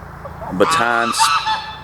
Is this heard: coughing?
no